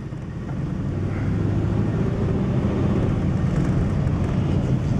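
A 1955 Cadillac Series 62 rolling along, its engine a steady low rumble with road and wind noise building after the first half-second and holding evenly, no talk heard.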